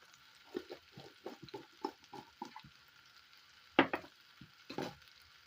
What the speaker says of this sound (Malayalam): ഈ പൊടികളുടെ പച്ചമണമൊക്കെ ഒന്ന് മാറി വരുന്ന വരെ വഴറ്റി കൊടുക്കുക.